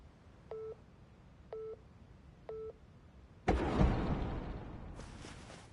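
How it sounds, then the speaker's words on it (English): Radio time signal from the video game Persona 3: three evenly spaced clear electronic beeps about a second apart, followed by a sudden loud rushing surge of noise that lingers, then a second burst joins. "At the tone, the time will be 12 a.m."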